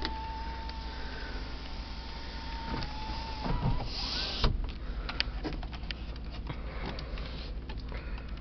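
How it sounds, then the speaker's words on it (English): Driver's side automatic power window of a 2013 Cadillac Escalade runs with a steady motor whine for a few seconds, then stops with a clunk; nearby, inside the car, over a quiet background hum. "Got automatic driver's side window."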